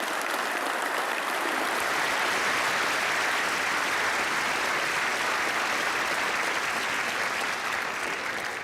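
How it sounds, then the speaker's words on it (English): A large convocation crowd at a fall graduation ceremony applauds the behind-the-scenes staff with loud, dense, sustained clapping that fills the hall evenly for close to nine seconds. "Can we have a round of applause for all those people?"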